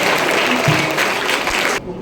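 A campus audience at a youth program breaks into loud, dense applause, steady clapping from many hands filling the space before it drops away abruptly near the end.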